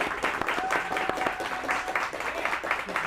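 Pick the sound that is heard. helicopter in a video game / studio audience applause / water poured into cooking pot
studio audience applause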